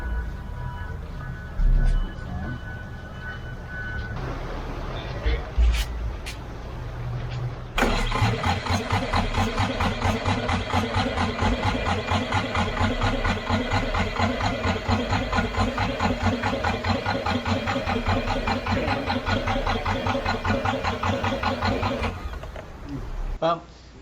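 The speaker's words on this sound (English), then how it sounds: "we kept trying to start it, and it just wouldn't go" A Yanmar diesel engine rebuilt from a sunk boat cranks over: brief starter bursts at first, then a long run of fast, rhythmic, loud cranking that stops abruptly without catching.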